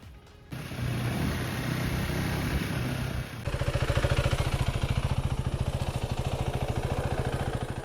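A KTM 390 Adventure S motorcycle idles, then pulls away as its single-cylinder engine rises into a loud, pulsing rev with throttle changes as it is ridden, close and clear with no talking.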